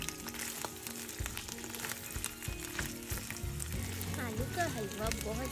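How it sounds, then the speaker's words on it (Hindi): Mashed potatoes fry in desi ghee in a nonstick pan, giving a soft, continuous sizzle with occasional stirring, fairly quiet and close. "एक पैन में 1/4 कप देसी घी का डालें और 1 कप मैश किए हुए आलू डालें"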